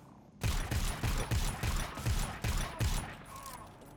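Short rifle fire in a video game beats out about eight evenly spaced, punchy shots roughly every third of a second, each with a low thump, then trails off into a fading rumble.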